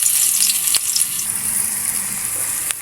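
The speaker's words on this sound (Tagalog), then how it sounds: "kinigisa yung tinapa para masarap pa" Smoked fish (tinapa) sautéing in a hot pan with onion, garlic, ginger and chili for a Bicol ginataang balingoy, giving a steady close sizzle with a couple of brief clinks of a utensil.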